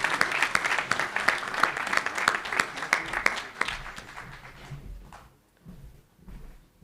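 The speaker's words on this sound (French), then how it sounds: "Vous pouvez encore les applaudir jusqu'à ce qu'elles rejoignent leur place." Audience applause at a town mayor's New Year address in Valgelon-La Rochette. Dense clapping for about four seconds, then it thins out into scattered claps and shuffling in a hall, with no voices over it.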